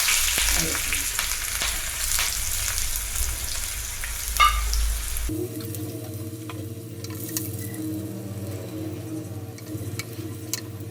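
Mustard seeds, fenugreek, curry leaves, a dried chilli and chopped shallots frying in hot oil for a Kerala pumpkin curry tempering, a dense crackling sizzle with popping seeds that shifts to a quieter, steadier fry partway through.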